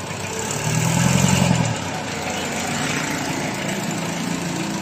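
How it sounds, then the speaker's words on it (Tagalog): A small grinding mill engine runs steadily nearby, a low droning hum that swells briefly louder at the start before settling into an even idle. "Maganda pa ang tunog ng makina. Malakas pa ka-mechanics."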